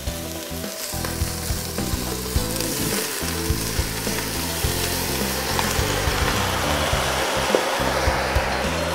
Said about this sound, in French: On va y verser les tomates.